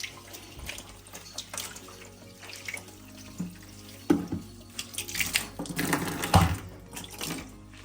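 Water runs from a tap and rinses down over ice to melt it, a fluctuating splashing stream that grows louder and more irregular toward the end, with no voices.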